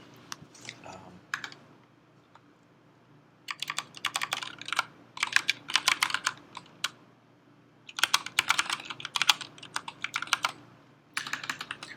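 Computer keyboard being typed on in bursts of rapid, crisp key clicks separated by quiet pauses, close by and fairly soft.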